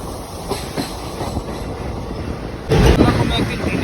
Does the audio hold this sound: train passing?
yes